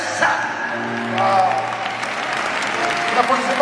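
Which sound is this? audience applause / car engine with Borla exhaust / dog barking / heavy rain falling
audience applause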